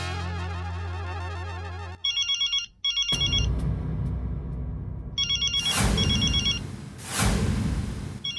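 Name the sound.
telephone ringing, incoming call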